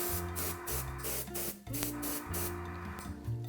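An airbrush spraying brown and black food colouring onto a sugar crab, a close steady hiss pulsing in short repeated bursts as the trigger is pressed and released, with a faint compressor hum underneath.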